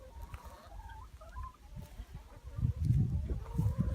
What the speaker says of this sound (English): We got the chickens right here.